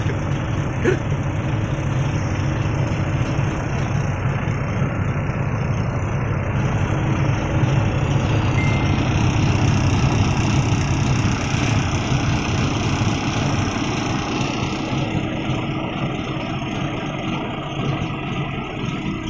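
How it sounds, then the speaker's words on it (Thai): Steady low droning engine of an excavator runs continuously and loud, a constant rumble with no breaks or speech. "บนรถขุดครับ"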